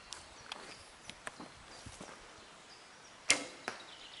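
A single arrow thuds hard into a 3D archery target on an outdoor course, a sharp close impact followed by a smaller knock, after quieter faint footsteps and rustles.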